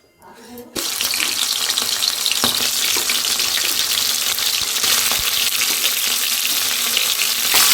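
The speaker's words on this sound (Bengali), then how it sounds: "মাছটা ভেজে নেব।" Tangra fish dropping into hot oil and frying, a loud, dense sizzle that bursts on abruptly and holds steady with scattered spits and crackles.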